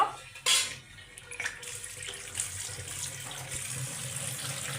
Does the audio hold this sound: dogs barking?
no